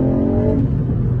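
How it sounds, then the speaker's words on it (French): Ford Fiesta ST+ small engine revving hard: a loud, deep, continuous drone that holds steady and then roughens slightly as the revs shift, close to the car with no talk. "vous avez l'impression d'avoir un moteur beaucoup plus gros avec cette sonorité, quelque chose de très puissant"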